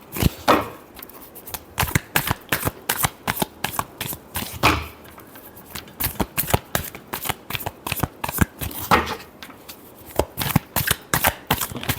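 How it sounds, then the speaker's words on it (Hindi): Tarot cards being shuffled by hand, a rapid series of crisp riffling flutters and slaps in uneven bursts, close and clear with no talking. "वर्गो के लिए लास्ट शफल।"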